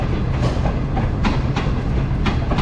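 The Green Line passenger train rolls through Bahawalpur railway station, its wagons making loud, steady rumbling clickety-clack as wheels cross rail joints at regular beats, close by and without speech.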